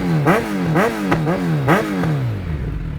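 A 2022 Suzuki Hayabusa sport bike fitted with aftermarket performance exhaust, revved hard several times in quick succession, each blip rising and falling sharply before the engine settles back toward idle, loud and close.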